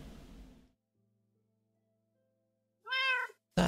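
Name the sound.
cat meowing in Minecraft video game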